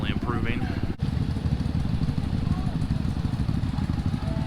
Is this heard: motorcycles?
yes